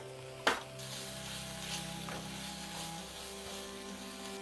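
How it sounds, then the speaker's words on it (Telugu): Sliced onions frying in oil in a pan for biryani, a steady soft sizzle with a sharp clatter near the start, followed by a few faint stirring knocks. "ఆనియన్స్ ఫ్రై అవుతున్నాయి కదా"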